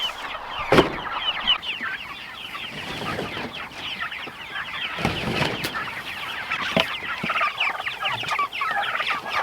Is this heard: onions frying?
no